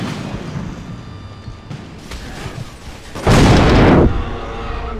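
A big explosion in Resistance 3 erupts as a loud, broad roar lasting under a second, rising over steady battlefield noise and then easing back to the background din.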